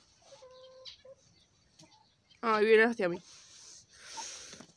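A hen gives short clucking calls amid quieter farmyard sounds, with a person speaking briefly nearby.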